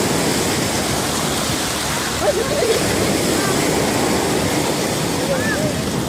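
Sea waves roll and wash along a Turkish beach in a loud, continuous rushing surge, with brief faint voices nearby.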